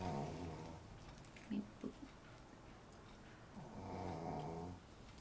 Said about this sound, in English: You'll hear snoring, which is Snowy.